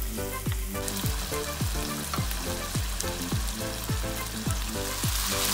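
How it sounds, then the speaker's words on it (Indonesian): Chicken stir-frying with ground chili in a pan for Thai-style ayam paprik, a steady close sizzle with regular rhythmic scraping strokes of the spatula, no talking. "Masukkan 2 sendok makan cabai giling dan tumis lagi sampai air dari ayamnya menyusut."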